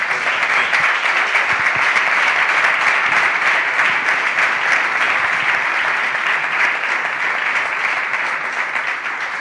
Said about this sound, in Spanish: Un aplauso para Jesús Vázquez.